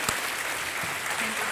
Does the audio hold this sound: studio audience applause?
yes